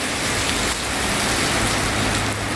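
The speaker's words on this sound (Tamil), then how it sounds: "இப்போ பாருங்கள், நல்ல பெருசாக மழை பிடிச்சிருச்சு." Heavy rain pours steadily outdoors in Singapore, a dense, continuous hiss that stays loud and even throughout with no voices.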